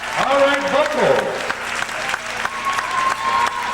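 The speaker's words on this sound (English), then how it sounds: "Give him a round of applause on that." A circus audience in 1993 breaks into steady applause after a magic trick with a walking stick, the clapping spread and roomy, with voices and tonal sounds over it.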